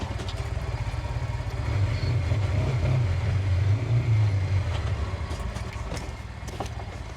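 A vehicle towing a MechMaxx B200 dump trailer drives slowly as the trailer bed raises, a low rumbling engine drone that builds and fades, with faint mechanical clatter near the end.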